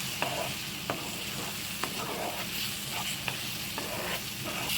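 Ripe jackfruit halwa with cardamom and crushed cashews being stirred in a pan, a soft continuous sizzle broken by regular scraping strokes about once a second, close and steady with no talking.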